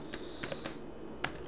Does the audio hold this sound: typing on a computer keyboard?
yes